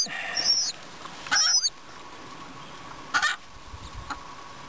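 Pheasant chicks peep in high, sharp cheeps on a pheasant farm as they are caught, with brief rustling bursts of handling between the calls.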